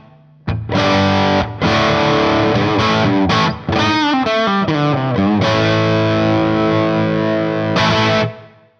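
Loud distorted riff from an Epiphone Jared James Nichols Signature Old Glory Les Paul with pole pieces in their stock position: a struck chord, fast picked runs and bends, then a long sustained chord that cuts off.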